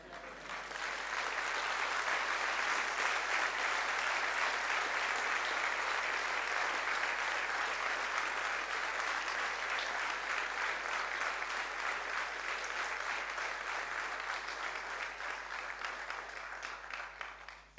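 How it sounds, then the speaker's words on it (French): Audience applause at a tech conference keynote: sustained, even clapping from a large crowd, fairly distant and moderate in level, holding steady for over fifteen seconds before fading at the very end. "Vous avez le droit d'applaudir."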